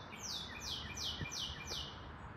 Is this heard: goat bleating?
no